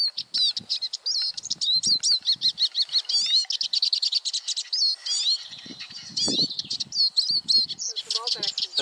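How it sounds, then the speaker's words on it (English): Wild birds chirp and twitter continuously and close by on a wild camp near Craig Cerrig-gleisiad and Fan Frynach, dense rapid calls with faint voices and rustling underneath. "Beautiful looking bird."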